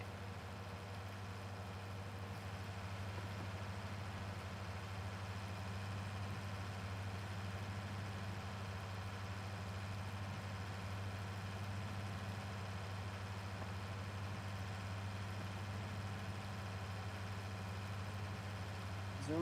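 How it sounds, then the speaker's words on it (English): A tractor engine in Farming Simulator 19 idles in a steady, low, faint drone that keeps a constant pitch throughout. "You can't even really hear the mower. You just hear the tractor."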